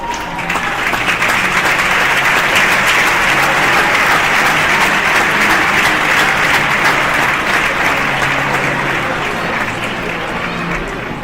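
Sustained applause from a crowd at an Asturian handball awards gala, steady and loud for the whole stretch, with a faint murmur of voices mixed into the clapping.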